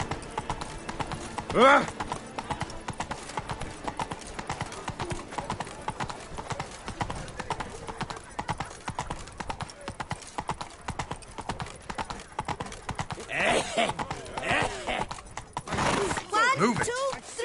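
In The Witcher 3, a horse gallops with rapid, continuous hoof clip-clops over a long stretch. A voice shouts over it, and whinnies and other calls break out near the end.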